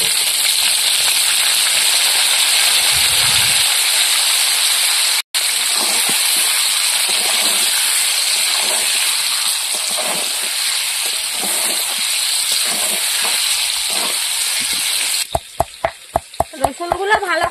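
Potatoes fry with salt and turmeric in hot oil for a mutton kosha, giving a steady close sizzle with occasional stirring. Sharp clinks of a utensil against the pan come near the end.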